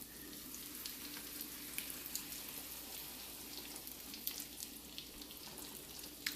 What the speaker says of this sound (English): Get a nice sizzle going there.